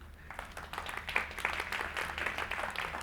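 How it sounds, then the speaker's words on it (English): Audience applause at a Shopify Unite event in London, continuous crowd clapping heard at a moderate distance, fairly faint, building slightly and then holding steady. "So big clap for them, please."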